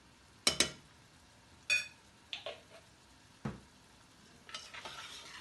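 A spoon stirs a heaping spoonful of homemade garam masala and whole spices in a pot for Sindhi biryani, with a few separate scraping, clinking strokes spaced apart, fairly quiet and close, no talking.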